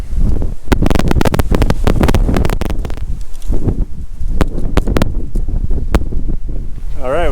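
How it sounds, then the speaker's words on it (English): Strong wind near a mountain summit buffets the microphone in loud irregular gusts and rumbling bursts, with short pauses between blasts and a brief voice-like tone at the end. "Pretty windy out here."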